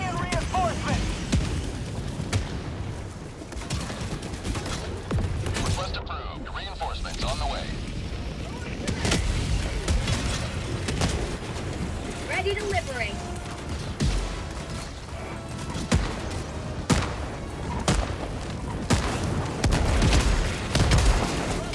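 Mortar rounds and other weapons fire boom and crackle through a chaotic Helldivers 2 battle, with a dense wash of explosions and gunfire running throughout while players talk over it.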